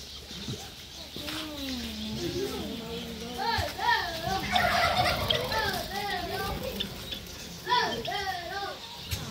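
Small birds in an enclosure at the Felda Hot Spring animal village give repeated high chirps and calls, fairly close, while children and adults talk and play loudly around them.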